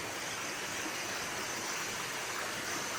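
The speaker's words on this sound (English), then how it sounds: "I'm now at the waterfall, which is just in the corner behind me." Waterfall at Blue Lagoon Reservoir in Belmont, Lancashire, a steady, even rush of falling water that fills the whole moment without pause, close and continuous with no voices over it.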